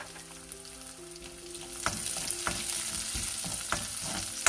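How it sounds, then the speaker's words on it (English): Chopped garlic and green chilies fry in hot oil with a bright, continuous sizzle that swells partway through, punctuated by a few sharp spatula scrapes and taps, close and without speech. "Fry till garlic gets fried."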